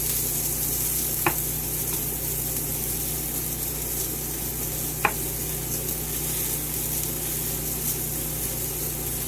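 Chicken sizzles steadily in a frying pan while cooking for a restaurant-style chicken sandwich. A continuous hissing fry runs throughout, with two brief sharp clicks.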